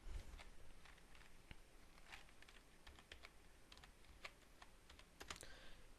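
Keys clatter on a computer keyboard as a name is typed into a Word document, a quick irregular run of soft close clicks over faint room noise, with nobody speaking.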